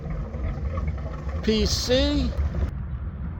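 Twin marine engines of a Formula 34 PC boat run with a steady low rumble close by while someone speaks briefly over them.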